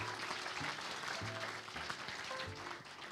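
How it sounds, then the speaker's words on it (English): Audience applause at a live corporate IPO prospectus launch in a hotel ballroom on a Monday morning, a steady continuous clapping wash held for the full stretch with a faint voice or tone showing through. "can we hear a big applause so that we could hype up our Monday morning?"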